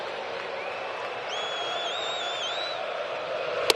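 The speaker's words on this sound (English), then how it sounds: "Crowd starting to swell up a little bit now." Large crowd at a baseball stadium during a Phillies–Braves playoff game, a steady broad roar that holds level and swells slightly, with whistles rising over it midway and a sharp clap or bang at the very end.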